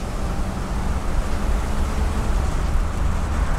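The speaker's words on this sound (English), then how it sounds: "I'm giving it gas right now." A 1966 Chrysler 300 convertible engine pulls under throttle while driving, a loud, continuous low rumble with road and wind noise that holds steady and swells slightly as it accelerates.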